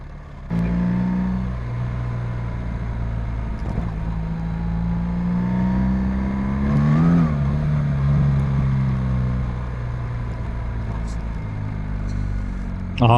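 A car accelerates hard on a rough forest track, its engine note rising steadily and revving up around the midpoint with traction control cutting in, a loud continuous drone throughout.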